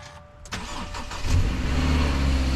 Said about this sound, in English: it's only right if I do a cold start on this one too